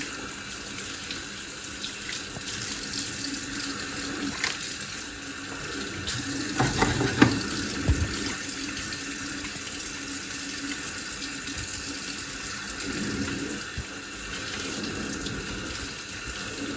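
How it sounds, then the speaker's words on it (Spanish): Water runs from a tap while hands are washed with soap, a steady splashing stream at close range with a few louder splashes and knocks midway and no voices. "realizar el lavado de manos con agua y jabón"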